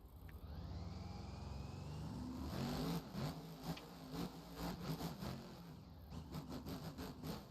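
A Monster Jam monster truck engine revs in an arena, a steady growl that builds, then breaks into repeated throttle blips, fairly far off and faint.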